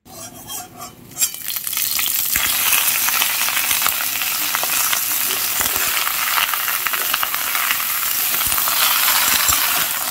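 Chilies fry in hot oil in a wok with a loud, continuous hiss and crackle that swells after a quieter start, broken by a few light metallic taps.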